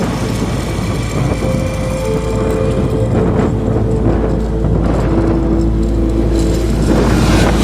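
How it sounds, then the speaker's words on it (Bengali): A motorbike passes on an open road on a day trip near Kolkata, a loud, steady engine roar and road rumble running throughout at close range, with no talk. "বাইক যাচ্ছে"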